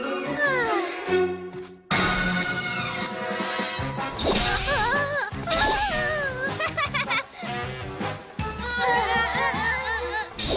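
Cartoon cats from the PJ Masks animated series meow in a string of wavering, sliding cries over a busy music score, with occasional crashes and clattering effects mixed in.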